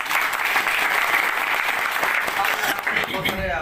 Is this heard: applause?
yes